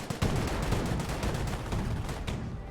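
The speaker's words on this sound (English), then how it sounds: "Rifle grenades fired away." Rifle grenades and small-arms fire in a Company of Heroes battle, a dense, continuous crackle of shots and blasts with a sharp burst near the start, steady and loud throughout with no talk.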